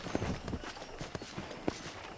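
A horse walks in the video game Red Dead Redemption, its hooves clip-clopping faintly in a loose, irregular rhythm with a few sharper thuds.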